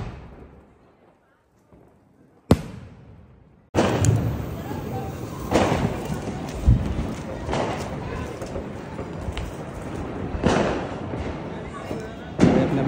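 Diwali firecrackers and fireworks go off outdoors in sharp, loud bangs, one isolated blast followed by a dense stretch of crackling and repeated bursts with several strong booms, with no talk.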